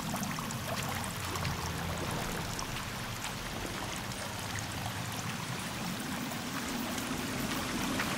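A river flows steadily through the Sons of the Forest game world, a dense, constant rush of water that holds even loudness throughout with no voices over it.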